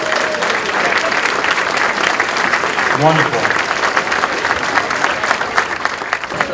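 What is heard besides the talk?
audience applause at a St. Patrick's Day luncheon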